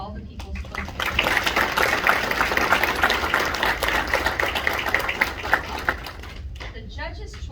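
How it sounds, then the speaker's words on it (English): A school board meeting audience in Orange County, Virginia gives a sustained round of dense clapping for People's Choice Award art winners, building quickly, holding steady and then thinning out near the end. "Could we have one more round of applause for all the People's Choice Awards?"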